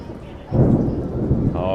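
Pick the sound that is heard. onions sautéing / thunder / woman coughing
thunder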